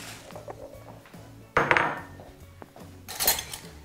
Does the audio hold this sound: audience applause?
no